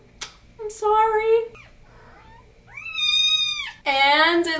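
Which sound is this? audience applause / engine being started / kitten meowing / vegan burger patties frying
kitten meowing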